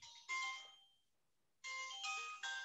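A mobile phone ringtone goes off during a lecture on Christianity, a clear electronic melody that plays a short phrase, pauses for about a second, then repeats. It is moderately loud, with no talking.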